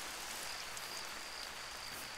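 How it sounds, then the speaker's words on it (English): Rain in the video game theHunter Call of the Wild, set in Africa: a steady, soft hiss of falling rain, even and continuous throughout, quiet and with no talking. "It's the first time I have rain in Africa."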